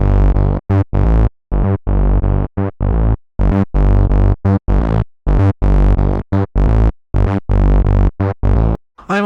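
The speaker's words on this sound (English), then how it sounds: "The next effect I'm adding is a distortion, and I'm setting its model to SYM and shaping it like this." Synth bass made in Serum runs through a SYM-model distortion with the drive raised and the mix lowered, playing loud, buzzy, rhythmic notes cut by short gaps, alone with no talk.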